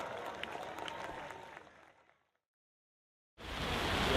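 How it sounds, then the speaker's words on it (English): Applause at a brass band concert: dense crowd clapping fades out to near silence, then a fresh burst of loud, steady clapping erupts and continues, with no talk over it. "Big round of applause"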